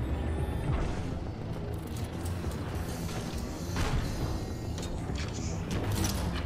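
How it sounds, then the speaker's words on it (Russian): Moving-platform machinery in Titanfall 2 produces a continuous low mechanical rumble with clanks and creaks layered over it, steady and fairly quiet throughout. "Ну, какая-то платформа вон едет."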